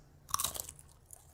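Crunchy Cheesy Grooves snacks are bitten in a commercial, a quick burst of crisp crunching close to the mic that lasts under a second.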